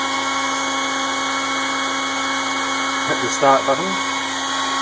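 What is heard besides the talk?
ShapeOko CNC router spindle running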